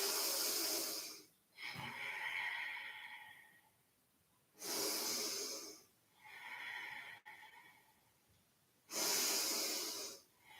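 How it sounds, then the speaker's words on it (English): Slow yoga breathing with deep, airy inhales and exhales, three long breaths alternating with quieter pauses, close and soft with no talking. "with a few rounds of breath, you find this floaty method on the inhale, leading to a deeper fold on the exhale"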